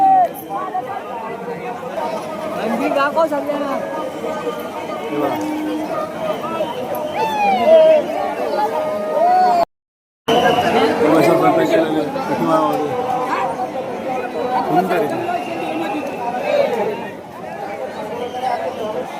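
A dense crowd of pilgrims at the Pandharpur temple chatter all around in a continuous, loud babble of many overlapping voices, broken only by one brief silent gap.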